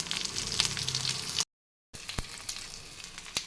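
Ginger frying in hot oil with curry leaves and cumin, a steady broad sizzle with a few crackles, broken by a short silent gap before the sizzling resumes.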